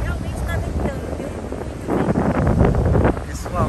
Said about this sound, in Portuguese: E o vento está forte